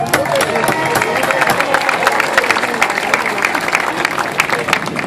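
An audience at the PortMiami Tunnel opening ceremony applauds in a dense, sustained burst of many hands clapping with some cheering and crowd murmur, loud and continuous throughout.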